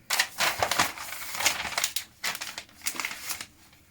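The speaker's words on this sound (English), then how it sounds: "Now if you push pins through at the markings indicated for your pocket, and then fold back your pattern piece" A paper sewing pattern piece for a Style Arc Mary shift dress is folded back over pinned fabric, giving several close, crisp bursts of crinkling and rustling paper with short pauses between them.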